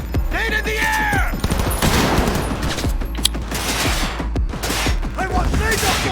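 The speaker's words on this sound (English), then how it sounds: "They got grenades! Nade in the air!" Rapid bursts of gunfire and grenade blasts in Cyberpunk 2077 crackle in dense, overlapping volleys, loud and continuous over roughly six seconds, with a shouting voice cutting in near the start.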